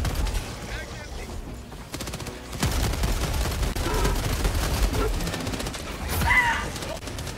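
The Spray & Pray shotgun fires in the video game Helldivers 2, a dense and loud barrage of rapid blasts that carries on almost without a break over the busy battle noise.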